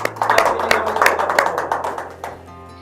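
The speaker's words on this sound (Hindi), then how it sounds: "ज़ोरदार तालियों में इस्तकबाल कीजिए" Audience applause welcoming a guest onto the stage of an Independence Day show, a steady patter of many hands clapping that fades slightly toward the end.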